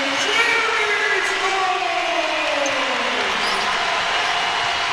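Arena crowd at an LSU women's basketball game against South Carolina roars loudly and steadily after a Tigers basket, a dense, sustained wall of cheering throughout.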